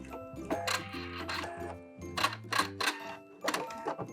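A sewing machine back stitches along the edge of fabric dress straps for a summer wrap dress, running in several short bursts with brief pauses between them, close and moderately loud.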